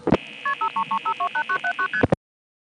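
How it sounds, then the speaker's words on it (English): Multi-frequency signalling tones from the identifier of a 1976 XY step-by-step telephone exchange in Fayetteville, Pennsylvania: a rapid train of about a dozen short, evenly spaced two-tone beeps between clicks, loud and close with no talking. "Those MFs are coming from the identifier in our office"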